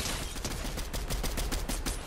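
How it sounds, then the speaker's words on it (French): Video game gunfire in Fortnite rattles out as rapid, evenly spaced shots in a dense, loud burst that runs through the whole moment, with no one talking over it. "Ça me tire dessus"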